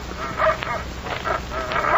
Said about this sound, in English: That sounds like the dog that greeted us at the front gate.